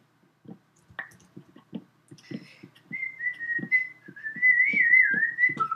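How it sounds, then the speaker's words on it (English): A person whistles a wavering, sustained tune while playing Minecraft, close to the microphone, over a steady run of soft game clicks and taps. "Yeah, I'm not very good whistling,"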